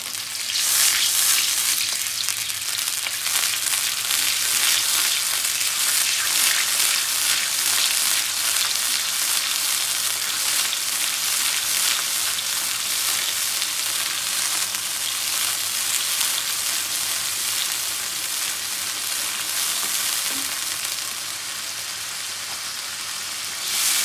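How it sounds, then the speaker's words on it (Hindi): Garlic and ginger sauté for dhaba-style urad dal, a loud, close, continuous hissing sizzle like heavy rain, with faint stirring underneath, dipping briefly near the end before surging again. "और इसी के साथ हम लहसुन और अदरक ऐड कर देंगे ताकि हम इसे सौते कर लें।"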